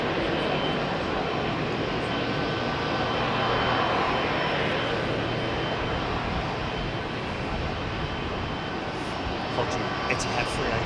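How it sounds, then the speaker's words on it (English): Etihad Airbus A380 taxiing for departure at Heathrow in the evening, a constant broad jet-engine roar held at moderate distance with no break and faint higher tones on top. "Etihad 380 taxiing for departure now."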